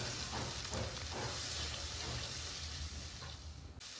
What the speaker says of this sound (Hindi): अब हम इसको अच्छे से फ्राई करेंगे ताकि टमाटर और प्याज यकजान हो जाएं